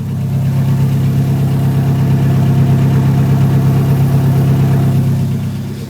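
Car engine idling through a newly fitted exhaust, a loud, steady deep rumble held evenly for several seconds with no revving, easing slightly at the end.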